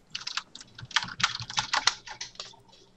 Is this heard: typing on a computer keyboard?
yes